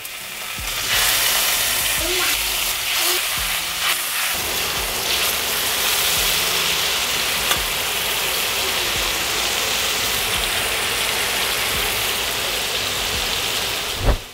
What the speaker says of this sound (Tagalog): Tapos, dito nyo na prituhin yung chicken breast na binabad natin.